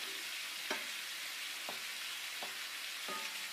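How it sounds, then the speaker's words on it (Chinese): Sweet and sour spare ribs sizzle steadily in a hot wok with sugar coloring, a continuous close frying hiss broken by four sharp scraping stir strokes at roughly even intervals, with no talking. "翻炒，让排骨上色。"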